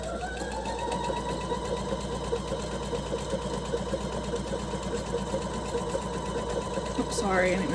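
A sewing machine stitches a hot pad, its steady mechanical whir running close and continuous throughout, ending with a brief change in pitch near the end.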